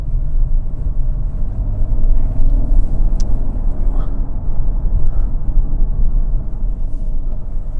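Driving a 2025 Mazda CX-80 SUV, a deep, steady low rumble of engine and road noise fills the cabin, loud and continuous with no talking.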